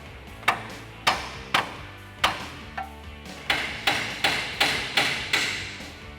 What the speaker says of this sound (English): now we're gonna grab our ball peen hammer, knock our upper control arm loose